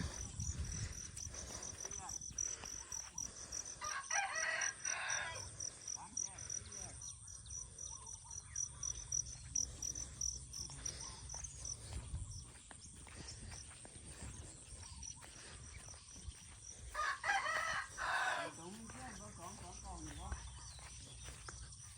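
Frogs and birds call outdoors around a rural home as a continuous mix of chirps, croaks and insect-like trills at moderate distance. People talk over it for much of the time.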